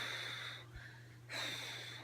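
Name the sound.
voice imitating breathing out through a labour contraction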